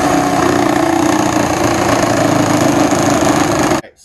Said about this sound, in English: I went to the battery-powered jigsaw here so that maybe we can cut around this